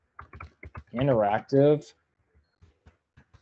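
Computer keyboard typing heard as a few quick clicks at the start and scattered faint taps near the end, with a person speaking in between.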